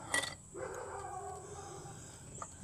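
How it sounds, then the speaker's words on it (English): A neighbor's dog gives one sharp bark, then a drawn-out whining howl, distant and fairly faint, with another short yip near the end. "Neighbor's dog wants to bark now."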